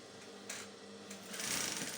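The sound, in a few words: sewing machine sewing fabric for a shirt dress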